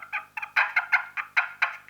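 A turkey hunting call, an inexpensive one, plays a run of sharp, raspy turkey-like yelps and clucks in quick rhythmic bursts, loud and close with no talking.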